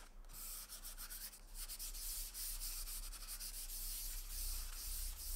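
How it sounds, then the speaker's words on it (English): Light scuff sanding by hand with 320 grit sandpaper over a cured wood finish, a steady close rhythmic rubbing and hissing that continues without pause, with no voices. "So I'm going to sand it with some 320, lightly scuff sand it."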